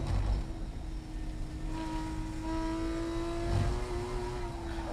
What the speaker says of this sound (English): it's after the car is settled on the left-hand curb heading out that the RPM does rise